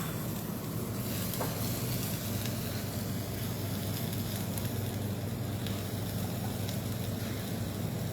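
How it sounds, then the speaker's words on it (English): Garlic and green chilies sautéing in a pan, a steady, close sizzle that runs unbroken and fairly loud throughout. "So saute the garlic slightly, don't make it too brown, and chilies as per your liking."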